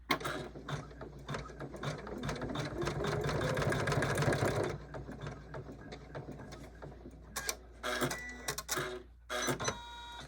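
A sewing machine sews an in-the-hoop appliqué zigzag join on a quilted table runner. A dense, steady mechanical whirr and rattle runs for several seconds, then stops, followed by scattered clicks and handling knocks.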